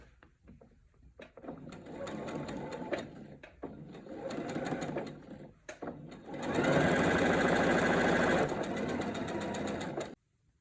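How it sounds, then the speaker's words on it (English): A sewing machine stitches binding onto a quilt, running in several steady bursts with short pauses, the last stretch longest and loudest, close and without talk. "And again, I'm sewing directly on this line."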